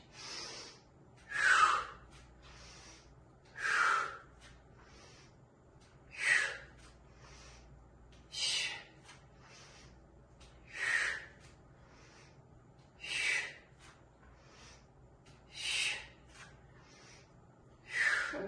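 Sharp exhaled breaths during reverse lunges in a lower-body strength workout, about nine forceful puffs spaced every two seconds or so, close and faint, with quieter inhales between.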